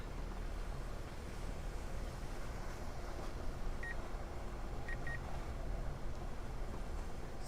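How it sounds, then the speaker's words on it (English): A few short, high electronic beeps from a drone's obstacle sensors, single then a quick pair, sound faintly over a constant loud rush of wind and motor noise. "You hear the beeping, it's the sensors."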